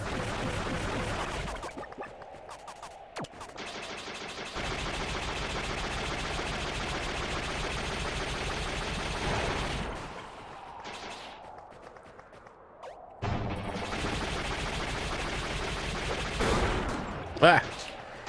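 Regular attacks, grenades and charged rockets in the Iconoclasts video game, heard as rapid bursts of gunfire-like blasts separated by short gaps of near silence.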